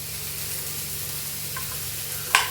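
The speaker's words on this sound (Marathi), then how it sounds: "मोठ्या गॅसवरच हे फ्राय करून घ्यायचं आहे" Food frying over a high gas flame gives a steady, even sizzle at moderate loudness, with a low constant hum underneath and a brief sharp clink near the end.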